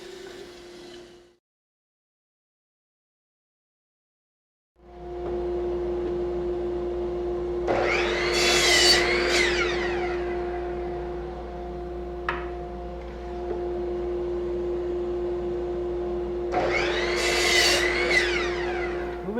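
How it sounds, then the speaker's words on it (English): A woodworking bandsaw cuts a curved line in wood for an outdoor table, a steady mechanical hum and whine with two louder bursts of rasping blade noise as the cut bites, after a brief silent pause. "back at the bandsaw, we can go ahead and cut along our line to create the inside curve"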